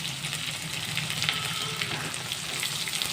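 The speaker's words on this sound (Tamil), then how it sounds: "பெரிய வெங்காயம் நல்லா வதங்கட்டும்" Large onions frying in oil for a bottle gourd kuzhambu, a constant close sizzle with light bubbling crackle throughout, no voices.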